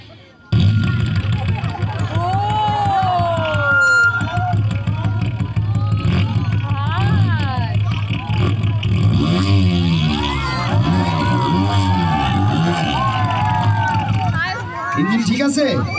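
A voice imitates a Honda motorcycle engine starting and revving, with rising and falling buzzing tones in bursts that carry on steadily and loudly.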